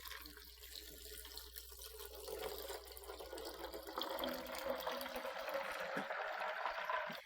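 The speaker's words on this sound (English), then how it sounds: "And then I'm gonna pour my 6 cups of water in." Six cups of water pour into a blender holding two cups of almonds, a steady splashing stream that fills the whole stretch at moderate level and grows slightly louder and fuller near the end, with no talking.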